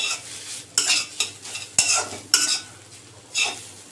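A spoon stirs spice mix into potatoes and onions frying in a pan, scraping and clinking several times over a steady close sizzle, with no voices.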